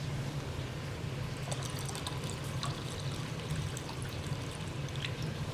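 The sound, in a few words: water being poured into a cooking dish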